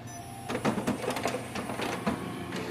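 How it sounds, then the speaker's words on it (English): An HP Smart Tank 7602 printer restarting, giving a quiet series of mechanical clicks, whirs and short clattering pulses from its internal mechanism in a calm room, with no talking. "Now the printer will restart automatically."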